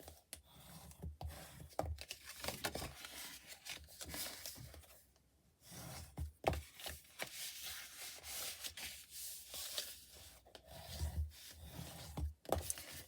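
A folded paper box for a card craft gets burnished, making soft close rubbing and scraping strokes in an uneven rhythm, quiet and alone.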